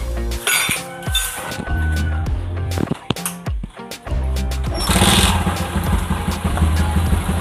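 A motorcycle fresh from a clutch plate replacement and engine block service runs on a test ride, its engine droning steadily under sharp metallic clinks and rattles, the pitch rising as it accelerates near the end.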